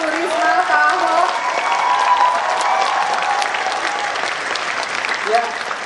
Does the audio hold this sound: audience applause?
yes